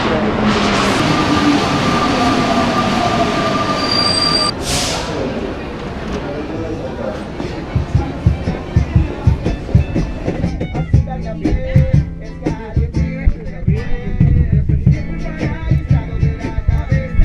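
A metro train in Santiago, Chile, a loud steady rumble with screeching as it arrives, then rhythmic clattering wheel thumps as it pulls away, heard close from the platform with people talking faintly in the background.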